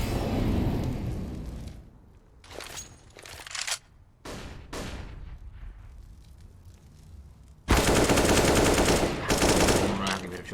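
Rifle shots ring out in a Counter-Strike esports match: scattered single cracks and short bursts, then a long, dense burst of rapid fire near the end, loud and close, with a caster's voice underneath at times.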